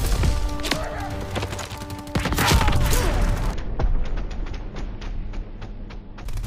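Rapid gunfire in the World War II shooter Call of Duty: WW2, dense overlapping shots and impacts crackling loudly and close for several seconds, thinning toward the end, with no speech.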